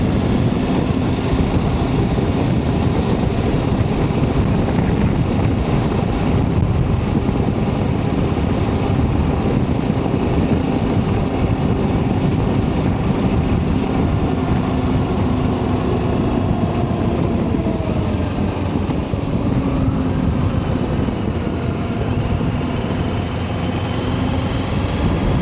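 A Kawasaki KLE500 motorcycle riding along with a taller windscreen fitted, its engine drone blended with constant broadband wind rush, loud and unbroken throughout.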